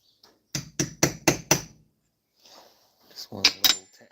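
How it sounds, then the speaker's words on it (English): A small copper hammer taps an old nail punch while servicing a two-stroke Suzuki M120X rover mower: five sharp, evenly spaced metallic strikes close up, followed after a pause by a few softer knocks. "Just one little tap."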